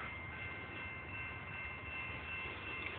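A train rumbles steadily and loudly nearby for the whole stretch, a dense continuous roar of rail noise with no talk over it.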